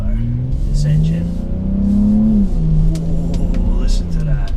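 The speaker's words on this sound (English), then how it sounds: "That sound of this engine is a thing of beauty." A 2019 BMW X3 M40i engine revving, a loud close rumble with rising and falling pitch as it climbs and settles, with brief talk over it.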